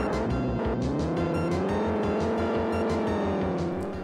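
A rally car engine from an unreleased Super NES racing game drones loudly and steadily, with a pulsing buzzy rhythm and rising pitch as it revs, heard alone without talk.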